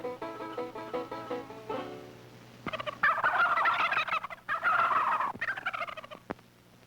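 Turkeys gobbling in a series of loud, near, rattling calls, first a rapid run of gobbles and then two longer overlapping bursts with short gaps between them, heard alone without talk.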